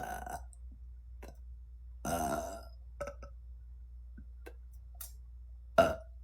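A woman lets out a deep, rumbling burp up close, followed by a few faint throat and mouth sounds and a short sharp sound near the end, in an otherwise quiet room.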